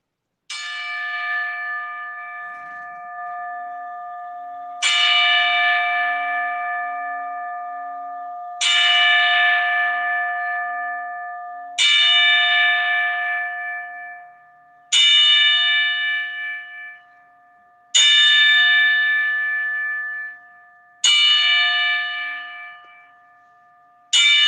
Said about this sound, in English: I got a 10-bell ring here if you want to do it